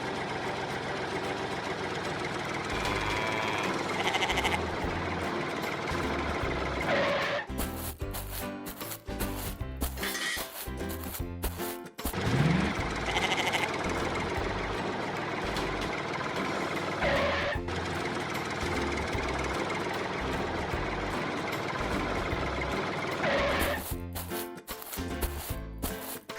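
A tractor engine runs steadily throughout while being parked after onion harvesting, a continuous mechanical drone with rhythmic knocking and clattering, fairly close and loud, with no voices.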